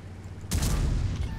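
An artillery piece fires in World of Tanks, a single sudden loud boom with a rumbling tail that lingers for about a second, heard alone.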